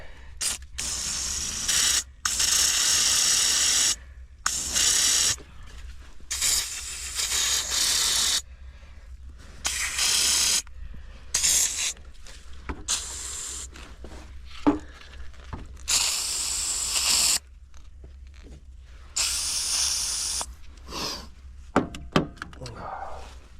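Cleaner is sprayed onto the battery terminals of a Jeep Grand Cherokee off-road rig in a series of short, sharp hissing bursts separated by quiet gaps.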